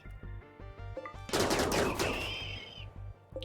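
Automated turrets in RimWorld open fire on Scythers, a rapid burst of loud mechanical gunfire over a rhythmic game music pulse, then fading with a lingering whine.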